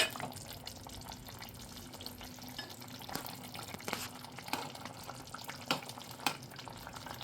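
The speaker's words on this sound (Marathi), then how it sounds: "आता कोकम ॲड करून मी परत छान असं मिक्स करून घेते" Potatoes and Bombay duck dry fish with kokum stirred in a pan, soft continuous scraping and shuffling with a few sharper knocks of the spoon against the pan, fairly quiet.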